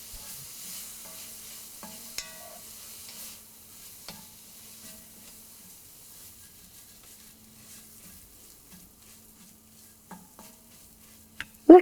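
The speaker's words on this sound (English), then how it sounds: "Saute until the tomatoes are soft." Thinly sliced tomato is sautéed in a pan for mushroom masala. A faint, low sizzle continues throughout with occasional light spoon taps, ending in a sharp clatter.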